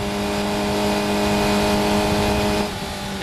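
Historic Formula Ford 2000 race cars roar past at Silverstone in a group, a steady loud engine drone with layered tones that shift slightly as they pass, with no talk over it.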